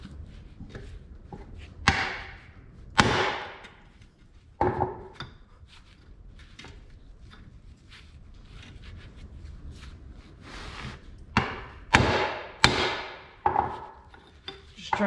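A 2012 Ford F-250's bad u-joint is struck with a hammer, with a handful of sharp metallic knocks spread irregularly among quieter shop noise.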